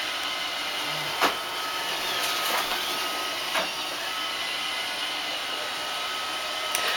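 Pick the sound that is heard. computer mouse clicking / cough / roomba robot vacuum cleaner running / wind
roomba robot vacuum cleaner running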